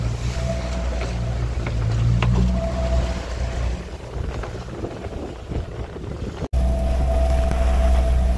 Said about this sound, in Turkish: Dalgalar büyüdü. Hava sertleşti. Ana yelken boşta sayılır.